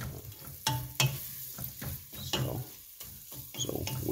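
Cabbage cooking in bacon fat in a pan for Creole cabbage, a low sizzle broken by several sharp stirring clatters and scrapes close by, no talking.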